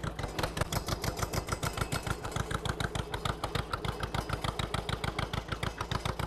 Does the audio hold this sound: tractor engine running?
yes